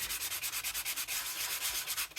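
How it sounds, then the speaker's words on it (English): Sandpaper rubs briskly over embossed paper in quick, regular back-and-forth strokes, a close, soft, dry scratching that repeats in a steady rhythm. "Now, with the sandpaper,"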